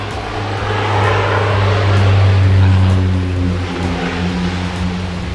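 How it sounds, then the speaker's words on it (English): A Tropic Air propeller plane passes overhead on Ambergris Caye, Belize, as a loud, steady droning roar that swells to a peak midway and then slowly eases off. "So that right there that you just heard was a Tropic Air flight."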